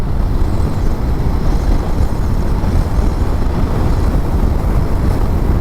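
Honda Rebel 500 cruiser motorcycle, power-restricted, accelerating through the gears on the road, a steady low engine drone heavily mixed with loud wind rush, continuous and close with no voices.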